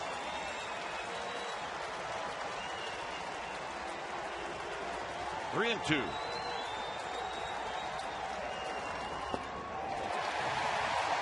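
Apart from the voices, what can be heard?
baseball crowd applauding and cheering at a Reds vs Giants game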